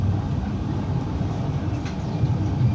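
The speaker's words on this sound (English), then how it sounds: "Just a goods train, just one goods train." A single goods train rumbles past near a former terminus, a steady low roar with faint wheel and rail noise that holds at the same loudness throughout.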